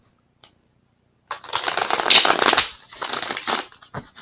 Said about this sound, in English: let's do one final shuffle.